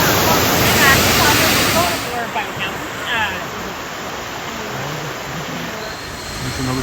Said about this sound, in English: There's our second waterfall.